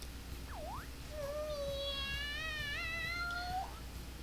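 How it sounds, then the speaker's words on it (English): A cat in the Persona 5 Royal video game gives excited meows: a short chirp, then a long, wavering, drawn-out yowl that rises and falls over steady game background sound. "The cat's acting awfully excited."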